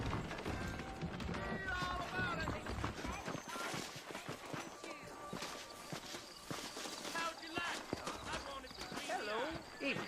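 Steady clip-clopping hooves of horses walking in a video game, close by, mixed with a busy layer of ambient sounds and occasional voices throughout.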